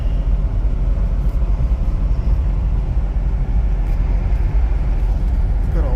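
A 1993 Nissan Pathfinder XE V6 cruises along the road, a steady loud low rumble of engine and road noise heard from inside the cabin.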